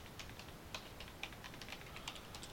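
Quiet, irregular keystrokes on a computer keyboard, a handful of soft clicks over a couple of seconds, as a command is entered during network switch configuration.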